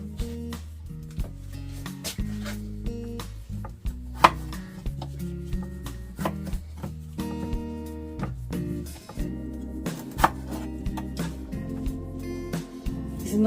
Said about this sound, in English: So when you cut the ginger like this, it doesn't clog your juicer up